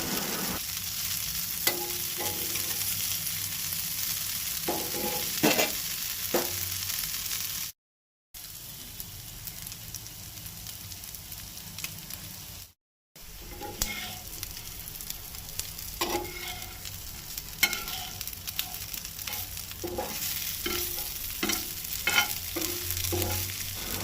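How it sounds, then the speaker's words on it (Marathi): Prawns frying in coconut oil on a cast-iron pan give a steady sizzle broken by repeated scraping stirs, close and fairly loud, with no voices. "सुंगटां आतां 5 मिनटां जालीं काय ना परतून घेता ती"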